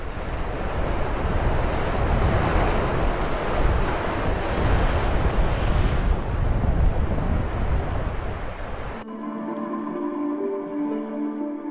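Strong ocean surf crashes and roars continuously off the rocky Galapagos shore, mixed with gusty wind buffeting the microphone, before the sound cuts abruptly to a much quieter scene near the end.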